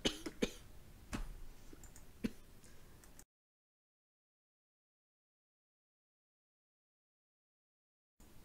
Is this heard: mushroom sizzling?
no